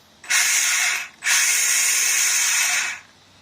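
Electric motor of a Maverick Strata RC car revving in two bursts, a loud rough whirring whine with a grinding edge, the first short and the second held longer, close up with no talk.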